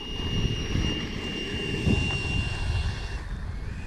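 A jet turbine whines with a high steady tone over a rushing engine roar as an FMS Futura 80mm model jet with afterburner passes nearby, swelling briefly and then easing off.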